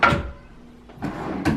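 A drawer in a baby boy's nursery slides open or shut, with a quick wooden rumble and knock at the start and two more brief scraping thumps near the end, close and fairly loud in a quiet room.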